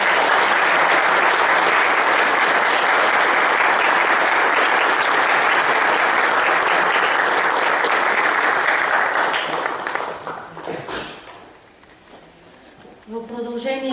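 An audience applauds at a jubilee celebration, loud and steady for about ten seconds before fading out. A voice begins speaking at the end.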